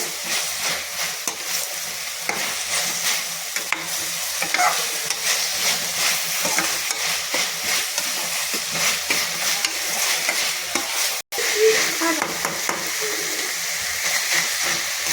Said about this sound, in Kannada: ಹಸಿ ವಾಸನೆ ಹೋಗೋವರೆಗೂ ನೀಟಾಗಿ ಫ್ರೈ ಮಾಡಿ.